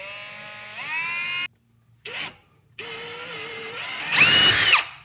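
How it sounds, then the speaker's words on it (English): A power drill bores holes during installation of a Rennline front lip on a 1978 Porsche 911SC Targa, a whining motor rising in pitch in bursts separated by short pauses, close and fairly loud. "I'm just gonna start by drilling the holes"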